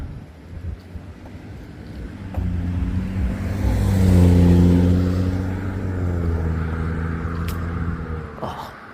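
A BMW car drives through a parking lot, its engine hum rising as it approaches and passes at moderate distance, under light wind noise.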